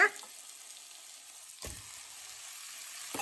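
Chopped white brinjal frying in a pan with ivy gourd for sambar produces a steady, fairly quiet sizzle with a couple of brief clunks as pieces go in.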